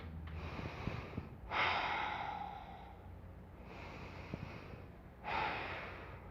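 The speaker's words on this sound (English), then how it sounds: "Let's have a couple breaths here." Slow, steady breathing held in warrior pose during a relaxing yoga flow class, with two long, soft breath cycles, each a quiet draw in and a slightly fuller release, close and unhurried with no talking.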